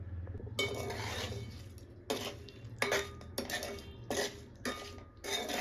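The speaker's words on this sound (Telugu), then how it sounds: "ఒకసారి మిక్స్ చేసుకుందాం" Dried fenugreek pickle is mixed in a bowl, with a spoon clinking and scraping against the sides in uneven bursts over a quiet background hum.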